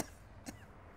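A feverish elderly woman gives a single short, faint cough in a quiet room.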